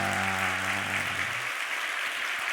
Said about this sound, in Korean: 우리 하나님께 영광의 박수를 한번 크게 올려드리겠습니다.